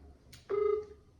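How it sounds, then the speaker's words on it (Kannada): A phone rings out through a speakerphone in a home: one short, faint ringback tone with a soft click just before it, and no talk. "ರಿಂಗ್ ಆಗ್ತಿದೆ"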